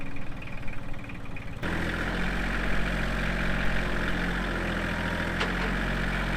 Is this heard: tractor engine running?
yes